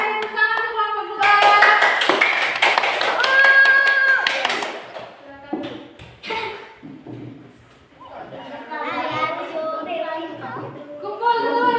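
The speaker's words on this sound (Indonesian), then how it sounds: "Silakan tepuk tangan untuk kelompok 2." A classroom group applauds together for a few seconds, a burst of clapping mixed with cheering voices, followed by a teacher speaking.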